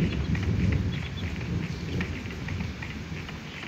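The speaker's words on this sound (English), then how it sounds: "Oh gosh, big storm." A thunderstorm in the Minecraft video game: dense, steady rain hisses over a low rolling rumble of thunder, loud and continuous throughout, with no voices.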